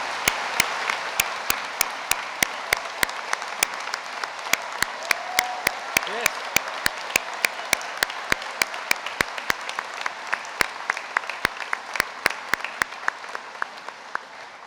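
Sustained audience applause fills a graduation ceremony hall, steady dense clapping with sharp individual claps standing out near the microphone, continuing evenly throughout.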